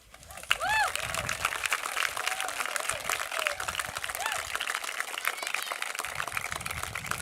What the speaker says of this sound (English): Please give one more round of applause for Maya, Cody, and Sam